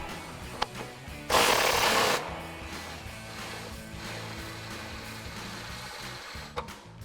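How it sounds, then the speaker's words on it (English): An impact wrench with a 15mm socket spins out a sway bar mount bolt on a 2005-2010 Mustang front suspension, one loud burst of under a second against quiet shop background. "now we can grab our impact with our 15mm socket and we can take that bolt out"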